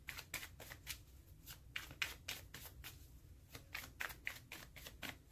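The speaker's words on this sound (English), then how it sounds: "Long shuffle, guys." Tarot cards are shuffled by hand in a long series of quick riffling bursts, close and fairly quiet, with no talk over them.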